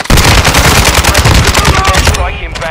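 Rapid automatic gunfire in Call of Duty Warzone on the Al Mazrah map, loud and close, a fast continuous rattle of shots that tapers off with ringing echoes at the end.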